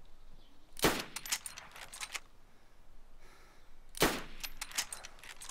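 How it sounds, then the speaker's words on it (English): Two loud bursts of video game gunfire, each followed by a quick string of sharper shots, ring out with a quiet gap between them and no talk over them. "You're getting shot at?"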